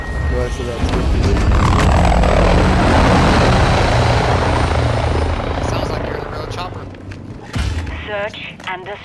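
A helicopter in the Call of Duty: Modern Warfare II video game roars in with a loud, swelling rotor and engine wash that peaks and then fades, while voices talk over it.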